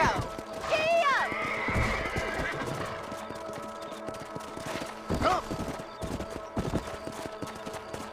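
A horse whinnies and its hooves clip-clop at a gallop in Red Dead Redemption on a ranch, with a rider's brief shout, scattered distant gunshots and steady hoofbeats continuing close by.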